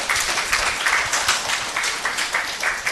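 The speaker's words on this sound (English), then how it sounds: "Give them a big applause." An audience at a medical workshop applauds with steady, dense clapping that holds for several seconds, moderately loud and close.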